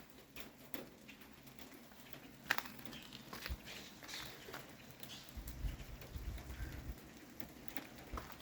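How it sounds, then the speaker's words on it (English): Steady rain falls outdoors over icy ground, a soft continuous patter with a few louder drips and taps nearby and birds faintly in the background. "It's raining now"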